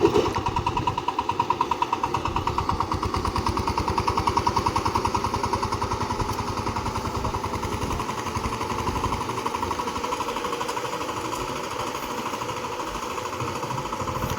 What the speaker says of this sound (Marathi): या शेतामध्ये ट्रॅक्टर लावलेला आहे